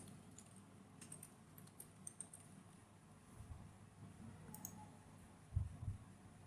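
Light, sparse clicks of typing on a computer keyboard, soft and intermittent over a quiet room hum, with a couple of slightly heavier taps near the end.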